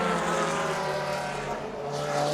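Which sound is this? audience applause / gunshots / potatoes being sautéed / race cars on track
race cars on track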